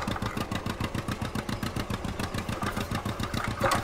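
A vintage tractor engine runs steadily nearby, with a rapid, even chugging pulse throughout and a slight rise in intensity toward the end.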